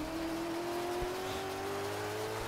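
A rally car engine drones steadily with a rising whine, loud and close, revving in the racing video game Colin McRae: DiRT 2, with no talking.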